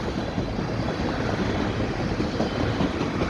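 A CN freight train rolls past at a footbridge in Dorval, Montreal, a steady, loud rumble of wheels and wagons with faint rhythmic clatter and no voices.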